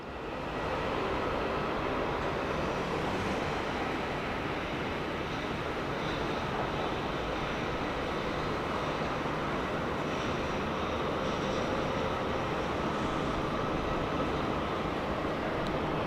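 A Fiji Airways A350 airliner at Sydney Airport makes a loud, continuous broadband roar that holds steady for the whole stretch, with no voices over it.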